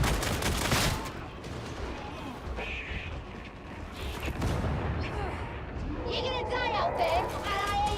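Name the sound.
machine gunner enemy firing, from video game Warhammer 40,000: Darktide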